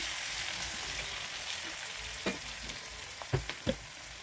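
Onions frying in a pan for egg curry, a steady soft sizzle with a few clinking stirs and scrapes near the end, fairly quiet and alone.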